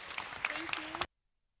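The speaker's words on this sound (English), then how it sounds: "Please give a round of applause for Roseanne Rayodica Juan." Audience applause for a poetry reader at a Filipino cultural celebration, a short burst of clapping lasting about a second before cutting to silence.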